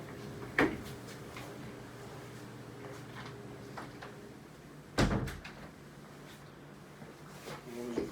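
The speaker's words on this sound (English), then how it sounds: "You mind if I close this door?" An indoor room door is shut partway through a sit-down interview, giving a sharp thud near the start and a heavier knock about five seconds later, over steady room hum and faint background voices.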